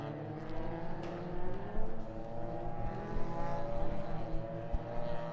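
Racing cars circulating on the Mondello Park circuit, weaving to warm their Yokohama tyres, a steady layered engine drone with a few louder swells as cars pass by at moderate distance.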